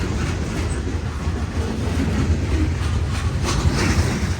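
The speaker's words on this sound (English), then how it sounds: "All the different types of train cars, old and new, squeak, creak, and groan in union" A southbound manifest freight train rolls slowly downhill with its brakes applied across a trestle in Greenville, South Carolina. A steady, close rumble and clatter from the wheels and cars carries throughout, with faint creaks over it.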